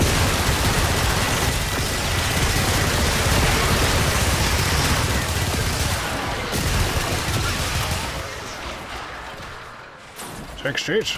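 Rapid gunfire from shooting enemies in Warframe, a dense, continuous stream of shots and impacts that thins out near the end, heard under someone talking.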